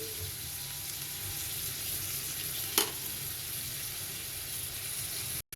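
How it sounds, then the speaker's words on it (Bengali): Prawns sauté in a pan with a low, even sizzle and hiss, a single utensil clack near the middle, then a brief cut before the sizzle resumes. "এটা চিংড়ি মাছটা দিয়ে সুন্দর করে এখন আমি হালকা করে কষিয়ে তারপর এটার মধ্যে ভাজিটা ঢেলে দেবো"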